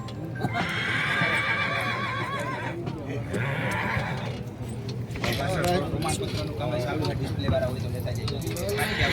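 A horse neighs and whinnies repeatedly at a village fair horse race, with hooves clip-clopping, under steady crowd noise and loud talk from a nearby commentator.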